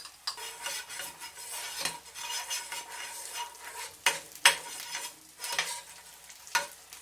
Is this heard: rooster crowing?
no